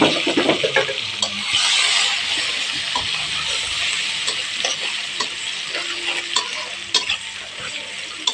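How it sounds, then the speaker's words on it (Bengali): Chopped onions frying in hot oil, a steady close sizzle broken by scraping stirs and ticks of a spatula against the pan, with no talk. "পেঁয়াজ কুচিগুলো লাল লাল করে ভেজে নিচ্ছে"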